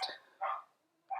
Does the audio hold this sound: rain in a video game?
no